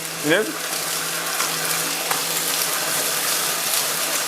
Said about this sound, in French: Et la brosse fait un bon bruit, hein.